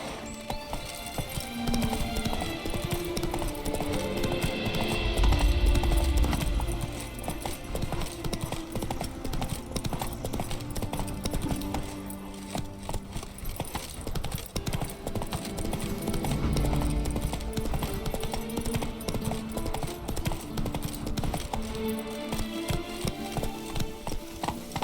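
Roach, a horse in The Witcher 3, gallops with steady rapid clip-clop hoofbeats throughout, loud and close, with an occasional whinny over a game music bed.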